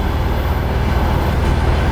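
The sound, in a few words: passenger train running through Russia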